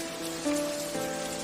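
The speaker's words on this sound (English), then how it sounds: "It's raining." Heavy rain falling in a town, heard as a steady hiss of drops on surfaces with sustained tonal hums and a faint swell partway through.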